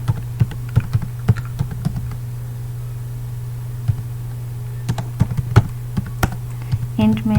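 Keys clatter on a computer keyboard while C++ code is typed, a scattered run of quick taps over a steady low electrical hum, with a denser flurry near the end.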